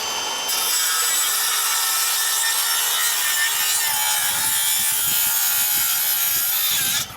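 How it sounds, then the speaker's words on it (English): A saw makes a top cut across the end of a timber roof rafter, giving a loud, close, steady rasping wood-cutting noise with repeated stroke pulses for about seven seconds, then stopping abruptly, with no talking. "First thing I'll do is put a top cut on right at the end here"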